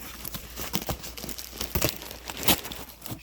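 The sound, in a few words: bubble wrap crinkling while unpacking a box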